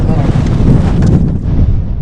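Strong Sahara headwind buffeting the microphone during bicycle travel in Mauritania, with a loud, continuous low rumble that dominates the clip.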